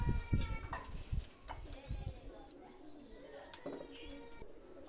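Pigeons coo in a loft where a pair of Omani pigeons is being shown, low and close with scattered wingbeat-like thumps early on, mixed with some background chatter and noise.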